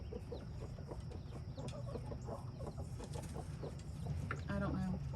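Broody hens on pasture cluck and murmur in a steady run of short calls, fairly close, with a louder burst of clucking near the end and faint outdoor background.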